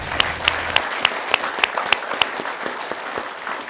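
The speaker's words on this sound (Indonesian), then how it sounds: "kita berikan tepuk tangan buat Asep" Studio audience on the Indonesian Who Wants to Be a Millionaire? game show claps in a sustained burst, with sharp individual claps standing out at a steady rhythm over a dense crowd wash, close and loud.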